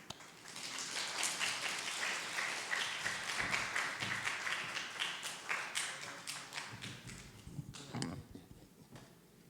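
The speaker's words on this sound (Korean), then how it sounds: "영광의 박수를 드리겠습니다" A church congregation claps together in a sustained burst of applause, dense and even at first, then thinning into scattered individual claps before fading out.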